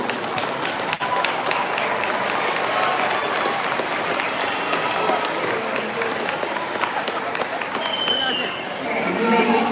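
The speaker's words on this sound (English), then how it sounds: "I want all of you to turn and applaud your parents" Eighth-grade students at a middle school promotion ceremony turn and applaud their parents, making a loud, dense, sustained wash of crowd clapping mixed with chatter and voices, which thins out near the end.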